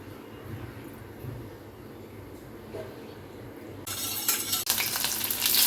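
Garlic and then onion hitting hot oil for a jhinge bharta with small shrimp, a sudden loud sizzle bursting in partway through and continuing strongly after a quieter stretch of background noise.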